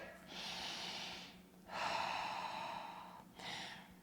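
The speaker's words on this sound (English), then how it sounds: "We'll just take a couple breaths here." Three slow, deep breaths taken during a floor stretch in a kettlebell workout, soft and close, each long airy inhale or exhale separated by short pauses.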